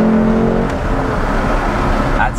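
A Lexus LC500's V8 engine runs with a steady, loud rumble, a brief rise in revs midway and a higher whine near the end, heard up close from inside the car.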